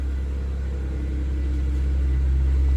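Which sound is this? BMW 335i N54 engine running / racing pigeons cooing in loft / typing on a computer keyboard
BMW 335i N54 engine running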